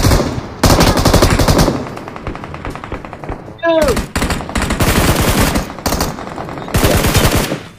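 Bursts of automatic gunfire from the mobile battle royale game PUBG Mobile, loud sustained volleys separated by short gaps, with a brief rising whistle-like sound partway through and a voice speaking over the shooting.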